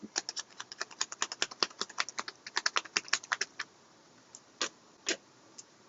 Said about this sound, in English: let's go ahead and shuffle and get started.